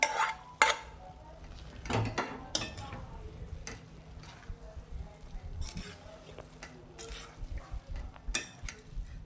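A utensil stirs and scrapes masala Maggi noodles mixed with vegetables in a pan on low heat, with irregular metallic clinks and knocks, some sharp and close, over a soft background and quiet talk.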